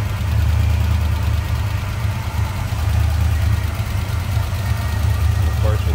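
A 1979 Pontiac Trans Am T-Top coupe with a 403 engine and automatic transmission idles close by, giving a steady, continuous low rumble throughout.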